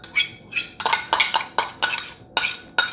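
A spoon scrapes and clinks through a bowl of caramelized onion dip mixed with mayonnaise and a little salt, giving about nine sharp, close stirring strokes in a steady rhythm with no talk.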